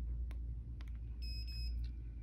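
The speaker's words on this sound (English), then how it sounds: "You heard a couple beeps, and that means it registered the point." A Bad Elf Flex GPS receiver in standalone logging mode gives two short, high electronic beeps in quick succession as it records a point, heard over a steady low rumble.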